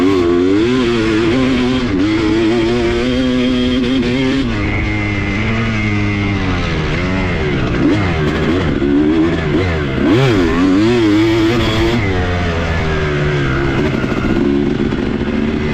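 A 2007 Kawasaki KX250 dirt bike ridden on a turn track, its engine loud and continuous, revving up and down through turns for the whole stretch, alone without talk.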